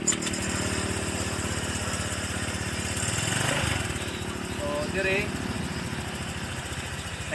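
A Honda Click 125fi fuel-injected scooter with a hard-start and injector problem runs at a steady, even idle, its low throbbing engine close and constant throughout, with a brief spoken word and a faint whir near the middle.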